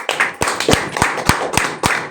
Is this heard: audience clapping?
yes